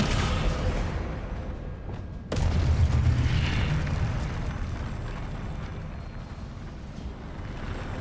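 A Descendo spell cast in the Hogwarts Legacy video game: a sharp slam-like boom that cuts through ongoing rumbling battle noise, followed by a low, heavy rumbling decay.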